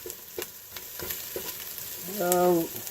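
Onions frying in olive oil in a pan for home-cooked spaghetti sauce, a steady close sizzle with a few scraping stirs, then a brief tonal beep near the end.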